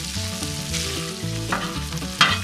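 Onions hitting hot fat with sausage, bacon and potatoes in a campfire Dutch oven, a loud close sizzle and crackle with stirring scrapes throughout.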